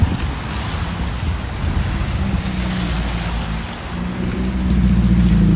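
Rain falling on a Toronto street, a dense steady hiss of drops with low rumbling traffic beneath, swelling slightly louder toward the end, with no voices.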